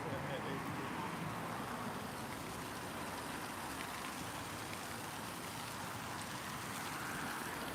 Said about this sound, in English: It's the waterfall in full.